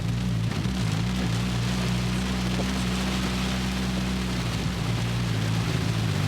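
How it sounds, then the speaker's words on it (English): Heavy rain pours down as a dense, steady hiss, with a low engine hum running beneath it throughout. "It's a lot of rain, guys."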